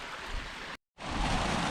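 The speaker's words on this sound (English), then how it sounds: "I'm hiking along the stream." A mountain stream flows beside a hiking trail, a steady broadband rush of water close to the microphone, briefly cut to silence midway before resuming just as loud.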